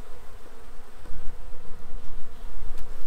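Honeybees drone steadily around an opened frame of a weak hive, a dense close buzz that swells louder partway through, with no voices.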